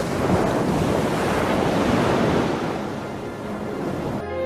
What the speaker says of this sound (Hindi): समुद्र, सुंदर नीला समुद्र।